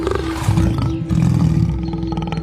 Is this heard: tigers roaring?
yes